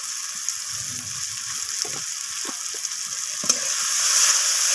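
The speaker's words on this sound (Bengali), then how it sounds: "সমস্ত কিছু মশলা আমি পেঁয়াজ আর টমেটোর সাথে এইভাবে নাড়াচাড়া করে কষিয়ে নিচ্ছি" Spices with onion and tomato sizzle steadily in a pan for a Bengali rohu fish kalia, broken by intermittent scraping strokes of a spoon as the masala is stirred, close and moderately loud with no talking.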